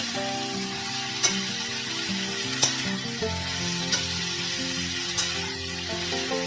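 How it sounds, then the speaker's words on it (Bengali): Potatoes and figs tossed with turmeric in a pan for aloo dumur dalna, a steady close sizzle with a few sharp spoon scrapes and clicks spaced through it, no talking. "এবার আমি সমস্তটাকে ভালো করে নেড়ে নেব।"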